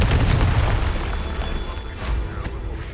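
A Confringo blasting spell goes off in Hogwarts Legacy, a loud, dense burst of booming explosion noise that fills the whole moment and rumbles on without pause.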